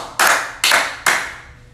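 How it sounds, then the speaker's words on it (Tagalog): Three sharp hand claps in an even rhythm, each a crisp close-up smack with a short decaying tail, followed by quiet. "bigyan nyo ng tatlong palakpak"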